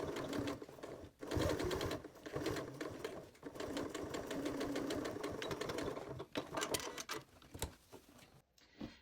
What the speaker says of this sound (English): now you can finish sewing down that side of the bias tape